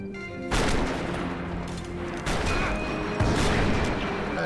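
Sustained gunfire in the Max Payne 3 video game, with loud, dense bursts of shots and crashing impacts layered into a continuous barrage. It swells at several points and never lets up across the clip.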